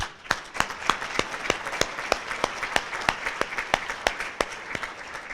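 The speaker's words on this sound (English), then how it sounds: "You all deserve a round of applause." Audience applause fills a room at a community families breakfast event, a steady burst of many hands clapping with sharp individual claps standing out, moderately loud and continuous with no talking over it.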